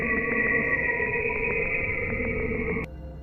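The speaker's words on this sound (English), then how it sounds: "Saturn emits radio waves, deep, oscillating pulses that can be picked up and translated into audio." Saturn's radio emissions rendered as audio: a steady, dense electronic drone with sustained tones and faint rhythmic pulses, loud and continuous, dropping off abruptly near the end.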